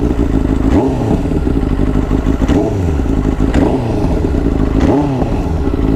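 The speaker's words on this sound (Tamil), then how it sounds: "இதோட எக்ஸாஸ்ட் நோட் மட்டும் உங்களுக்கு காட்டிடுறேன்" A Benelli 600i motorcycle's exhaust note, a loud, close, rumbling idle broken by four evenly spaced sharp revs, each rising and falling quickly.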